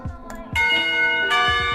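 School bell from the visual novel game Katawa Shoujo, bright ringing bell tones struck twice and sustaining with a shimmering overtone decay, loud and close.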